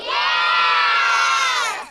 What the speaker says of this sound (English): I wish I had a crowd of kids saying, yeah!